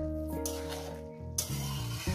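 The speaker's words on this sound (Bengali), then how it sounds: "আস্তে আস্তে একটু নেড়ে দেবো।" Rice simmering in a pot on low gas is stirred, a steady bubbling sizzle with soft scraping movements and a brief louder stir near the middle, close and alone.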